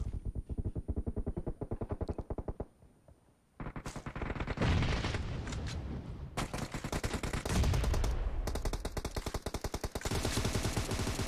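Rapid automatic gunfire from a PUBG Mobile match, dense loud bursts of shots that stop briefly, then return in long sustained volleys with a few heavier booms.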